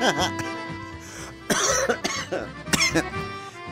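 Several sharp coughs break up a person's speech, close to the microphone, with talking before and between them.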